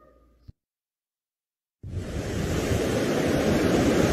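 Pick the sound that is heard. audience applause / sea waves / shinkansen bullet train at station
sea waves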